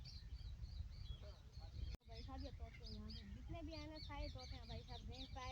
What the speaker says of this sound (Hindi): ये तोते यहाँ पे जितने भी हैं ना सारे तोते हैं भाई साहब। Green parrot, Macau parrot,